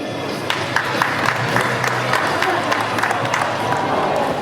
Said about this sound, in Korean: 여러분 큰 박수로 많이해주시기 바랍니다